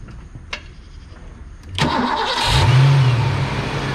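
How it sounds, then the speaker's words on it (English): A Ford Mustang Foxbody cranks briefly and fires up, then settles into a loud, steady idle close by, with faint clicks beforehand and no voices. "Let's start the car up and now check and see where our RPM is."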